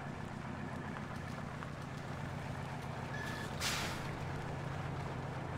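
A truck's air brakes release in the off-road driving game Mudrunner, a short, sharp hiss bursting out over a steady low engine rumble, with a faint beep just before it.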